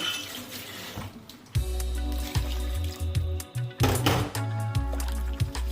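Cold water runs and splashes into a container with clattering and knocking of a vessel, loud and close, with brief pauses before pouring resumes, while cooking Nigerian bitter leaf soup.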